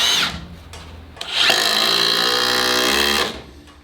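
A Milwaukee M18 FID3 impact driver on speed 3 drives a 120 mm screw, a loud sustained buzzing hammer rattle of about two seconds, preceded by brief trigger blips and ending abruptly.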